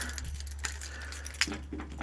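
A set of keys jangles and clinks in short, irregular bursts as they are grabbed to start a vehicle, close by over a steady low engine or electrical hum.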